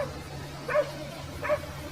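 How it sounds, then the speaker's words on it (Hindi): Dogs barking from a hidden speaker in GTA, two short separate barks about a second apart, moderately loud over a low steady hum. "कुत्ते भौंकने की आवाज आ रही होगी तुम्हें"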